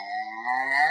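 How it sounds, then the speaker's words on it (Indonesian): A cow moos once in a children's educational animal-sounds game, a steady tonal low that swells slightly toward the end, close and clear with no talking. "ini adalah suara binatang sapi"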